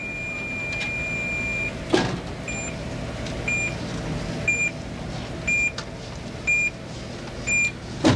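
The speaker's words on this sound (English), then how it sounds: "And now they've got Beeper, the electronically controlled robot mailman." An electronically controlled robot mailman moving through offices gives off a series of regular electronic beeps, steady tones repeating about once a second over a low mechanical hum, with one sharp knock near the start.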